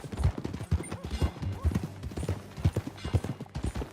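Horse hooves clip-clop at a steady trot in Red Dead Redemption 2, a regular rhythm of close, solid thuds running throughout, with brief talk over the top.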